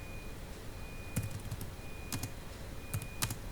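Fingers type out a QBasic program on a computer keyboard, with three quiet clusters of quick key taps separated by short pauses over a low background hum.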